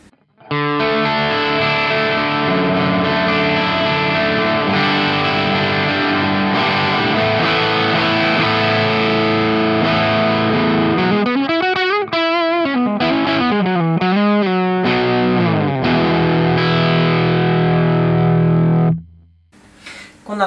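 Overdriven electric guitar, a Les Paul through an overdrive pedal with tone at zero, dark and muffled, sustained chords ringing long, then a quicker wavering passage before the sound cuts off near the end.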